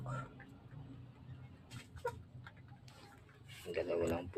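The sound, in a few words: chickens clucking at feeding time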